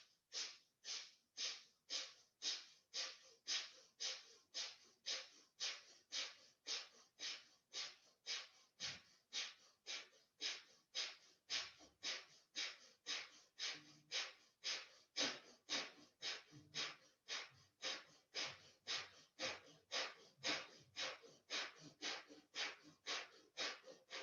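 Kapalabhati yoga breathing in a class, a long, evenly paced run of forceful nasal exhales, each a sharp loud huff, roughly two per second, continuing without pause, close and alone.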